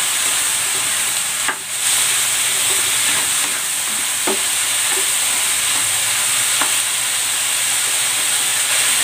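Carrots and potatoes fry with chicken curry in a pan, giving a steady bright sizzle and hiss close by, with occasional clinks and scrapes from a stirring spoon.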